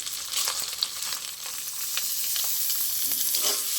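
Soaked rice fries in a pan with ginger paste, a steady close sizzle with soft scraping and stirring sounds rising and falling through it.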